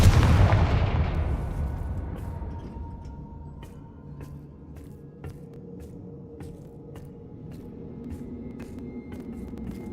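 A Confringo fire spell blasts off in the Hogwarts Legacy video game, one loud booming burst that fades over a couple of seconds into a low rumbling tail with faint crackles.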